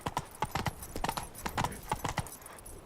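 Roach the horse's hooves clip-clopping in The Witcher 3, a quick, fairly regular run of sharp close hoofbeats, quiet overall with no talking.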